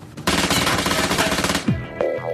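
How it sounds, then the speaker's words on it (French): A KRISS Vector submachine gun fires on full auto, a rapid loud continuous burst of shots that lasts over a second before stopping abruptly, followed by a couple of short tonal whooshes and sharp sounds. "On peut tirer plusieurs coups consécutifs sur la cible en continu."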